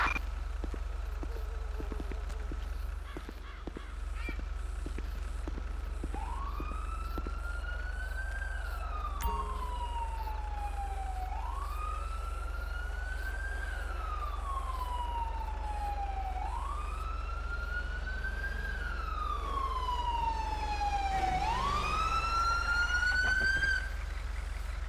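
Emergency vehicle sirens in the video game GTA V, an LSPDFR police mod with an ambulance responding: a wailing siren rises and falls in long repeated sweeps, joined near the end by a second higher siren, over a low engine drone.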